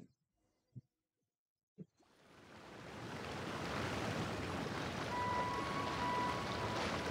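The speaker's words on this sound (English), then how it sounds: "waterfall." After a few soft taps, a steady rushing waterfall in Genshin Impact swells in and roars continuously, a broad, even wash of falling water that fills the rest of the scene.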